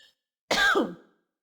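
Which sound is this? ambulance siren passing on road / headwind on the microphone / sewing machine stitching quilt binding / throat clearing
throat clearing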